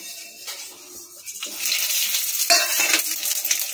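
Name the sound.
frying spice tempering: bay leaf, fennel, mustard, radhuni, asafoetida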